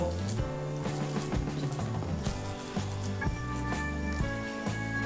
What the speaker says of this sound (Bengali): এর মধ্যে আমি বড়াগুলো ভেজে নেব